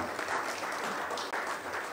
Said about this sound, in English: Let's clap for them as they come.